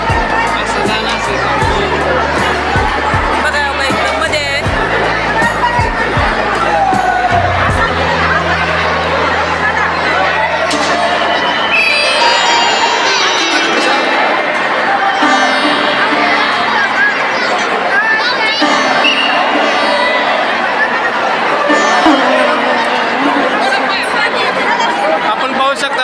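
A dense crowd packed around a main stupa, many voices chattering at once in a loud, continuous babble with a few laughs, while people nearby talk over it.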